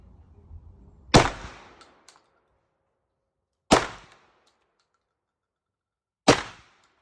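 A Citadel Boss 25 semi-auto 12 gauge shotgun fires three loud, sharp shots a few seconds apart, each a close, cracking report with a brief decaying tail, with near silence in between.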